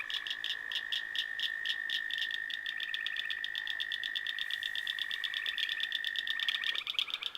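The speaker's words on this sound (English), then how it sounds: "can you hear the frogs? You know just how loud it gets." Dense chorus of frogs croaking in rapid, continuous pulses over a steady high trill, loud and unbroken, no voices.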